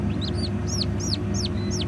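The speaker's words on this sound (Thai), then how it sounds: "อันนี้เป็นลูกไก่ไข่นะครับ" High, arching chirps from a newborn chick repeat about five times in quick succession, sharp and close, over a steady low hum.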